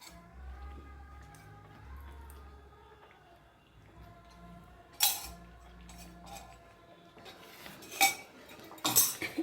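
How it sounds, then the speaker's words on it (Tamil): Wheat halwa cooks with ghee in a pan under steady stirring: quiet scraping and thick squelching, with several louder spoon-on-metal clinks toward the end. "அந்த மாதிரி ஆற வரைக்கும் நம்ம இன்னும் கிண்டிகிட்டே இருக்கணும்"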